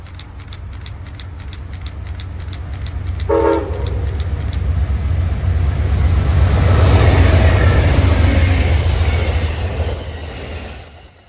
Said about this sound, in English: Amtrak 449 came through with regular consist, but this train just so happened to have a triple header